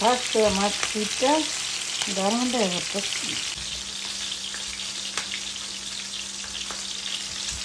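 Hilsa fish pieces fry in a pan with a loud, dense, continuous crackling sizzle; a voice briefly sounds over it at the start before the frying carries on alone.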